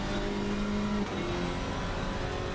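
Alpine GT4 race car accelerating hard down the back straight at Brands Hatch GP, a steady loud engine note that rises, briefly dips at a gear change and climbs again, with no talk.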